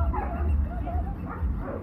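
A playful dog yips and barks in short bursts while running around and chewing on a toy, with people's voices and commentary mixed in underneath.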